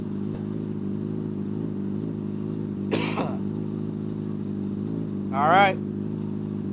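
A motorcycle engine idles with a steady, close rumble. A couple of short sharper bursts rise over it, and a voice speaks briefly.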